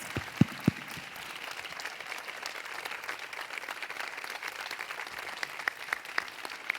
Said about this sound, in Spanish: les voy a pedir un muy, muy fuerte aplauso para estas 3 grandes personas